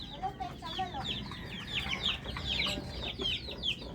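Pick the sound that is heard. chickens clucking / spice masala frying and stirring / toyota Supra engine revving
chickens clucking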